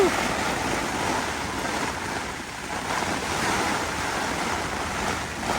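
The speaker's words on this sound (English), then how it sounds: "Man, it's hailing." Inside a Jack Wolfskin Yellowstone 2 tent, wind-driven hail and rain hammer the fabric in a constant loud hiss and rumble, with gusts swelling and easing throughout.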